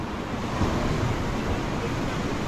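Sea surf washes onto a small beach below Sindhudurg fort in a steady, close, unbroken roar mixed with wind buffeting, with no voices.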